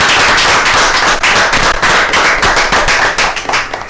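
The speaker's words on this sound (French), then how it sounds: "Applaudissements pour eux" An audience gives loud, dense applause for gospel performers on stage. The clapping is a continuous crackling roar that thins slightly toward the end, with no talking.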